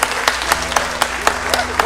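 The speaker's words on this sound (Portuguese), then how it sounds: "pode aplaudir aí" A church congregation claps along during a sermon, producing regular sharp claps about every quarter second, loud and rhythmic, with a sustained low hum underneath.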